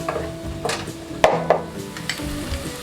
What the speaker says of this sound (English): So the onions have been frying for a little bit now.